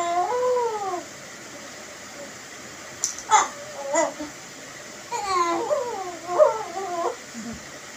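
A young child cries in short wailing bursts with pauses in between, moderately close and alone without other talk.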